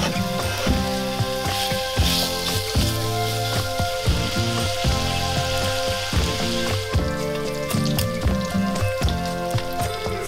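Diced bacon fries in a Dutch oven with a steady, crackling sizzle and scattered pops, running continuously under background music.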